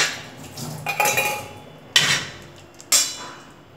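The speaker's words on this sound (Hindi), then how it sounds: "नींबू का रस डाल देंगे गैस बंद करने के बाद में, थोड़ा मिक्स कर देंगे" A spoon mixes poha in a pan, scraping softly and then knocking against the metal in two sharp, separate clinks, with no voices.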